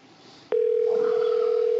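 Telephone line during an outgoing call: a faint hiss, a click, then a steady loud tone sounding alone and unbroken for over a second.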